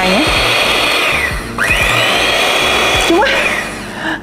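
An electric hand mixer whirs loudly and steadily close by, its motor pitch sliding up and down as the speed changes, with brief dips where it is adjusted.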